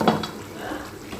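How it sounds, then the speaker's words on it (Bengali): Meat being stirred in a pot while cooking for biryani, giving a couple of quick scraping, clattering strokes up close and then a softer ongoing rustle, with no talking. "মাংসটা একবার দুবার করে নাড়াচাড়া করে নিতে হবে"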